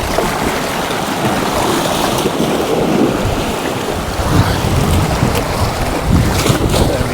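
Sea swell and wind on the rocky shore at the Bendricks, South Wales, a loud continuous roar of surf and gusting wind buffeting the microphone, with no voices.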